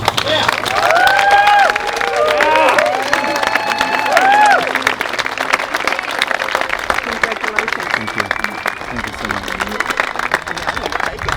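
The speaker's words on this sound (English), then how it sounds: "A big round of applause." Wedding guests applaud in a dense burst of clapping that rings through a ceremony hall, with voices and whoops over it, then thins into scattered claps.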